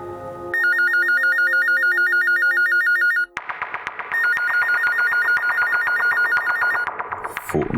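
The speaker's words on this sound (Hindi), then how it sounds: "फोन तो उठाओ" A telephone rings with a loud electronic trill in repeating bursts, breaks off briefly with a sharp cut, then resumes ringing until the end in a tense crime drama scene.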